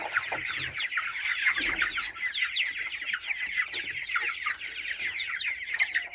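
Hens and young roosters of a large breed, the cockerels just beginning to feather out, cluck and chatter continuously at moderate volume in a rapid, busy patter with no talk.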